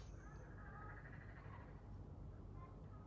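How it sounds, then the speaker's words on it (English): Faint frogs croak in a quiet outdoor setting in the early morning, their calls soft and distant over a low, steady background hum. "Can hear the frogs early morning."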